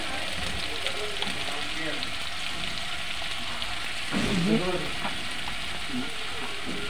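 Ginger, garlic, onion and green chili pastes fry in hot oil, a continuous crackling sizzle with occasional stirring, while a voice talks over it.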